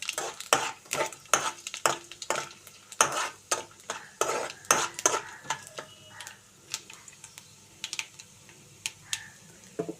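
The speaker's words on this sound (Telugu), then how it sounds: "తాలింపు గింజలు అయితే వేస్తున్నానండి." Chana dal, urad dal, cumin and mustard seeds crackle and pop in hot oil while a utensil scrapes and clatters against the pan in repeated strokes, close up, with no talking.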